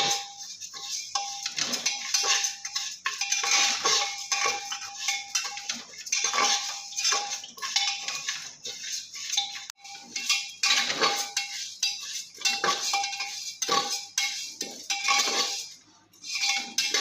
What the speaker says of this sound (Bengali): চালটা কিন্তু খুব সুন্দর করে ঝনঝনা করে আগে আমি গরম করে নেব